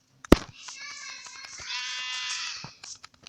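A sheep in the Minecraft video game bleats once in a long, wavering, game-style cry that lasts about two seconds, with a short sharp click just before it.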